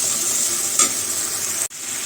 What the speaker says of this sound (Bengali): মশলাটা ভালোভাবে কষাবো যেহেতু মাংস ভাজা হয়ে গেছে